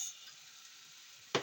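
Soy sauce poured onto Chinese sausage frying Jamaican style in a hot pan: a low steady sizzle, then one sudden sharp hiss that flares near the end and quickly fades.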